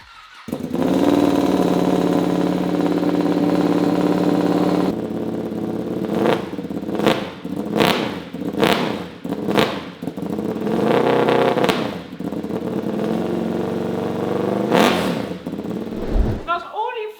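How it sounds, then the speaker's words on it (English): A 2020 Ducati Panigale V2 with an aftermarket exhaust starts up and idles loudly, then blips its throttle in a run of sharp revs before settling again. A voice talks over part of it. "now it's time to start the bike"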